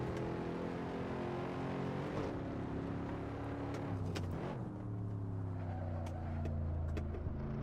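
Race car engine in the Assetto Corsa sim, a low, steady growl droning throughout with gentle pitch shifts as the car lifts and reapplies throttle, fairly subdued.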